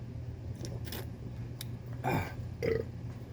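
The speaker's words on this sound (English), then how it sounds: "Patriot burp." A man gives a single short, deep burp, with a second guttural burst just after it, over faint background hum and a few light clicks.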